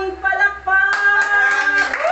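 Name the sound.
congregation clapping hands in praise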